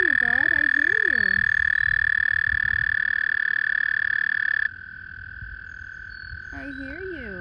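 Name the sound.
frogs croaking while mating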